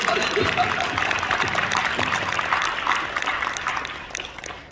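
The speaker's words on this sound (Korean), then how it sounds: "우리 오산 시장님도 여러분 격려의 박수 해주시고" A church congregation gathered for a March 1st anniversary thanksgiving service applauds in encouragement, a steady wash of clapping that holds evenly for several seconds before tapering off at the end.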